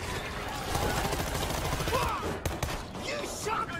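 Rapid gunfire crackles in the World War Z video game on PC, with dense overlapping shots and in-game combat noise and voices over it.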